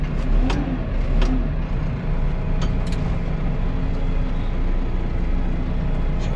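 A New Holland T5.140 Auto Command tractor's engine runs steadily at close range, a continuous mid-pitched diesel drone with a few brief clicks and knocks over it.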